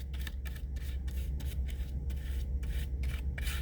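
A brush scrubs glue wash onto cardboard before aluminum foil is applied, giving close, dry, rhythmic rubbing strokes in short bursts over a low steady hum, with no talking.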